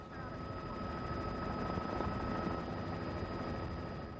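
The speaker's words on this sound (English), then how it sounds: "a DPS helicopter appears" DPS helicopter flying low over flooded streets during the 1998 San Antonio-area flood, a steady, loud rotor and engine roar holding at constant strength without a break.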